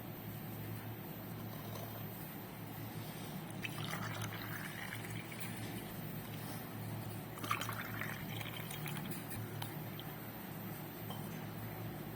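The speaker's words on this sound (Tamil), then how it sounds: "அடுத்தது மாதுளம்பழம் ஜூஸ் ஊற்றிக்கலாம்" Pomegranate juice poured into molds for homemade fruit ice pops, a faint liquid splash with soft bursts around the middle and end, heard over a steady low background hum.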